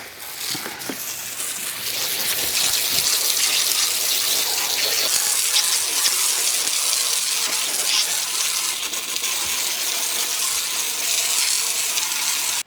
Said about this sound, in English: So I'm going to try hosing it off with their system, which is by using their own applicator set to the rinse position.